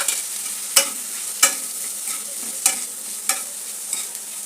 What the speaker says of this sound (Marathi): परतून झाल्याच्या नंतर मी एक टमाटर याच्यामध्ये टाकते. त्याला देखील थोडंसं परतून घेते.